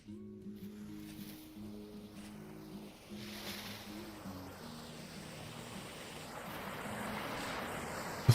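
Waterfall in a video game, a soft steady rush of falling water that grows gradually louder, layered under low sustained musical tones early on and ending with a brief sharp knock.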